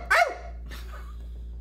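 A toy puppy figure from a Dora dollhouse set gives a single short electronic bark, loud and close, followed by a faint softer yip and quiet hiss.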